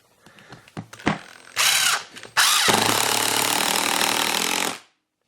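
A power drill drives a 2.5 inch screw into wood with a loud, continuous grinding whir after a few short trigger bursts and handling knocks, then cuts off abruptly.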